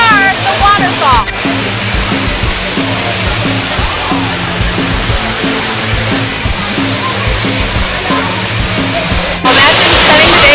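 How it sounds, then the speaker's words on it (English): Loud, steady rush of a rainforest waterfall in El Yunque, Puerto Rico, pouring continuously and close by, with faint voices beneath the roar. "Here we are, the waterfall."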